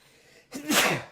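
A single sharp human sneeze bursts out close to the microphone after a brief quiet intake, loud and alone.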